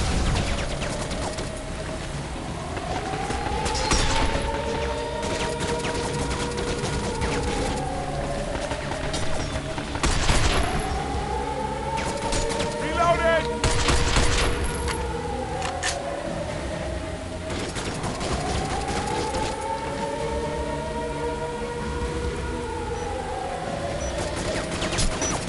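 Video game gunfire shoots down robots, with bursts of shots over sweeping electronic whines that rise and fall in repeating waves, in a Windows game running on Android through an emulator. There is no talk.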